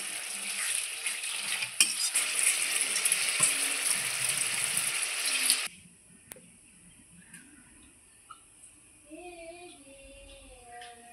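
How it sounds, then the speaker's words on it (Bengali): Spice paste sizzles loudly in hot oil in a pan for several seconds after water is added, a dense hissing fry that cuts off abruptly into quiet clinks and faint background sounds. "আমি জল দিয়ে আবারও খুব সুন্দর করে কষিয়ে নিলাম। দেখুন তেল ছাড়তে লেগেছে"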